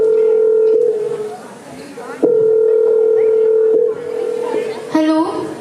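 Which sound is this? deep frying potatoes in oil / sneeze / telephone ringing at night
telephone ringing at night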